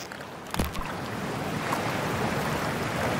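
A character wading into freezing water in Cyberpunk 2077, with a brief splash followed by steady rushing, sloshing water noise that stays loud and even, no voices.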